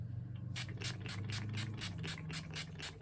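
Mario Badescu aloe, sage and orange blossom facial mist sprayed from a pump bottle: about ten quick, evenly spaced hissing spritzes, close and crisp, over a quiet background hum.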